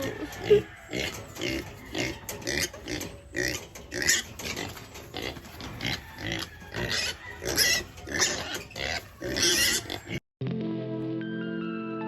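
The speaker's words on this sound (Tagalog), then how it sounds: "Ang cute pala ng baboy dito." Pigs on a farm grunt and oink repeatedly, loud and close, in a steady busy stream with other animal noise mixed in, ending with a brief tonal sound.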